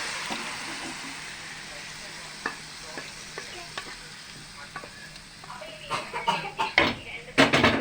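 Beef liver is tipped into masala and fried, with a quiet steady sizzle rising into louder bursts of stirring and spattering near the end.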